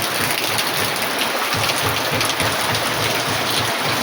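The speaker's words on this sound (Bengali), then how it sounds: "দেখো এখনও কিন্তু ক্রমশ ভালোই জোরে বৃষ্টি হচ্ছে" Heavy rain pouring steadily, a dense unbroken hiss of drops hitting surfaces close by, loud and constant with no talking.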